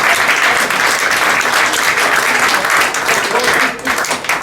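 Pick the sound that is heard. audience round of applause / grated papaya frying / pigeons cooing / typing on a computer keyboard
audience round of applause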